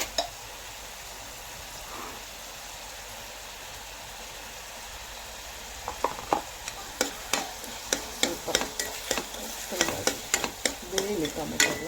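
Tomato with turmeric and rock salt frying and being stirred in a pan for egg bhurji, quiet low sizzle at first, then a run of sharp, regular spatula scrapes and clicks over steady sizzling, with no talking.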